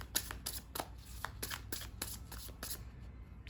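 Tarot cards shuffled by hand in a quick run of crisp riffling flicks and slaps, repeated several times close to the mic over a low background hum, with no talking.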